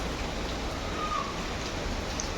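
Rain falls steadily outdoors during the monsoon onto potted plants, a dense, even hiss of drops pattering on surfaces at close range with no talk.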